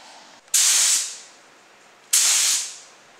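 Two separate long bursts of spray gun hiss as a first coat of paint goes onto a 1957 Chevy, each starting abruptly and tapering off over about half a second, with a pause between them.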